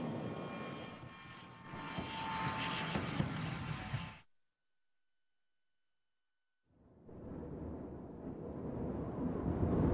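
A Lockheed F-22 military fighter jet coming in to land roars loudly with engine noise and wind buffeting, cuts to near silence midway, then the heavy jet rumble resumes and builds.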